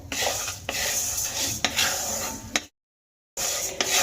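Mung dal being stirred and dry-roasted in a pan for a fish-head mung dal recipe, with steady scraping and rustling of the lentils against the metal, a few sharper knocks, and a short silent break before the stirring resumes.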